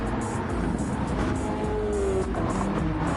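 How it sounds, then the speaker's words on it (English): Race cars in Gran Turismo 7 roar continuously, with engines droning and shifting pitch and faint tire noise, forming a dense steady mix of several cars at once. "As the Aston Martin still leads, Andrew into second though, keeping that gap"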